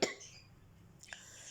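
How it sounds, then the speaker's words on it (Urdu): A single sharp cough bursts out at the start, followed by quiet room tone and a faint second catch of breath near the end. "آپ تو دیکھ سکتے ہیں کھانسی ابھی تک تھوڑی چل ہی رہی ہے"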